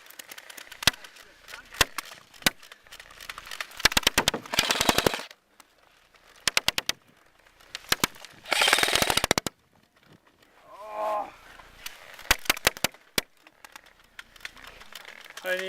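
Airsoft guns fire in bursts and single shots during a close-quarters indoor skirmish, sharp rapid rattles alternating with pauses, heard up close with brief voices between volleys.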